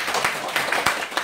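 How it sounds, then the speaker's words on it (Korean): Brief burst of audience clapping at a Rotary club meeting, scattered hand claps from a small group, fairly near, with no talk over them. "박수 한번 쳐주십시오"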